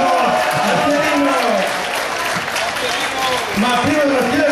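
Audience applause at a dinner event serving spit-roast, a sustained wash of clapping from a crowd, with a voice talking over it throughout.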